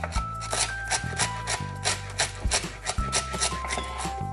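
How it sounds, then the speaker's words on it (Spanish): Knife chopping fresh cilantro on a cutting board, a rapid uneven run of close, crisp taps and scraping rubs, with faint kitchen sounds behind. "Lo siguiente que vamos a hacer es cortar el cilantro."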